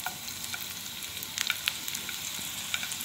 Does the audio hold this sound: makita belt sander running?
no